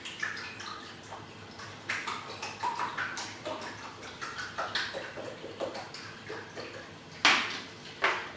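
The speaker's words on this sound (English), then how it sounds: "Once again, we fill it with water." Water poured into a container in a compartmental model demo, heard as irregular splashing, dripping and trickling bursts at moderate level, with a louder gush near the end.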